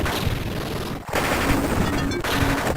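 Rapid machine gun fire from an assault team in the General Chaos video game, sustained and dense bursts with a brief pause near the middle, loud and continuous with no talking.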